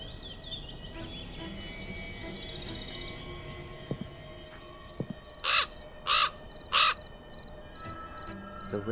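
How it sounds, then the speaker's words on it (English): A raven in the Black Mirror 2 adventure game gives three loud, evenly spaced caws near the end, heard over faint insect chirring and rustling ambience. "The raven flew out of a crack in the rock."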